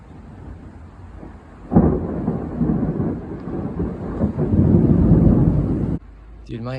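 Thunder from a wild lightning storm booms in with a sudden loud crack and a long, heavy rumble that swells and rolls on for several seconds before cutting off, with rain faintly beneath.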